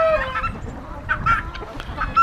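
Several chickens squawk and cackle nearby in short, overlapping calls, loud and close with no talking.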